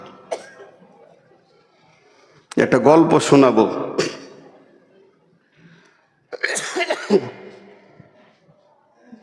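Two harsh, forceful coughing fits break out, each a burst of several hacking coughs, close by, with quiet talk between them.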